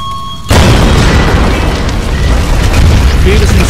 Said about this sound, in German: Rotes Fass bedeutet, wie immer, Explosion.